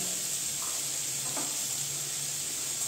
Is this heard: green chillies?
yes